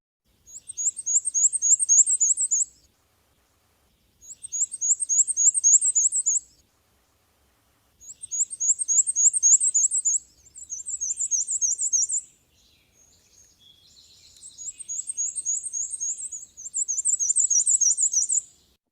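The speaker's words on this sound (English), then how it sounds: "And it says weesey, weesey, weesey. It's like a squeaky wheel." A black-and-white warbler sings its very high, thin, squeaky weesey-weesey song, repeated in clear two- to three-second phrases with brief pauses, alone against a silent background.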